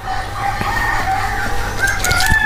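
Free-roaming native gavran chickens cluck around a poultry farm while a rooster crows nearby. Thin calls rise over a steady farmyard background hum, with no talk.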